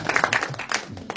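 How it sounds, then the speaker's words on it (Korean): A short burst of group clapping with voices mixed in. "박수 한번 쳐주세요"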